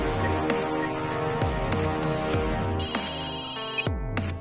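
A mobile phone ringtone plays steadily during a call, a clear melodic electronic tune of repeating tones that carries on loudly with no speech over it.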